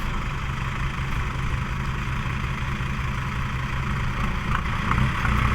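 A steady, rumbling Yanmar tractor engine runs continuously at close range while pushing a six-wheel truck stuck in mud, its low drone holding even throughout with no voices.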